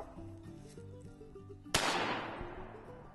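A single sharp shotgun blast rings out mid-clip, fired at a squirrel during a Louisiana hunt. It has a long fading tail, with a steady musical background running throughout.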